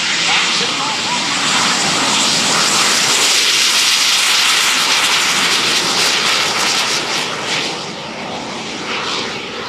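An F/A-18C Hornet jet roars past at an airshow, a loud, sustained broadband engine blast with hissing turbine noise that stays strong for most of the pass before easing slightly near the end, while an announcer talks over it.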